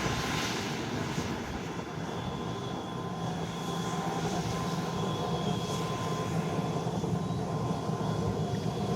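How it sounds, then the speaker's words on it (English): A Qatar Executive Gulfstream 650 jet on the runway, its engines giving a steady, broad roar that holds even and continuous throughout, heard from a distance at moderate level. "next up we have this Qatar Executive Gulfstream 650 heading to Atlanta"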